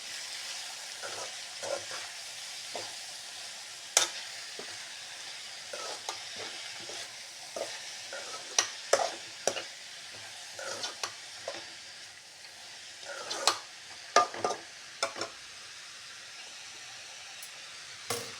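Ground fenugreek paste fries in a pan, giving a soft continuous sizzle punctuated by irregular scraping strokes and clinks as a spoon stirs it, fairly quiet and close, with no voices.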